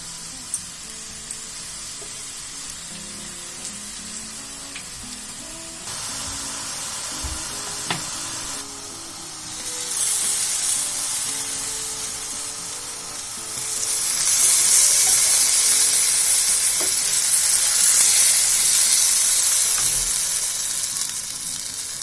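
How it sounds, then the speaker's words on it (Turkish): Steady crackling sizzle of yufka pastry sheets frying in hot oil in a pan, growing louder and hissier partway through, with occasional scrapes and clinks, no talking. "Tavamızda yağımız kızdı. Hemen koyuyorum yufkaları."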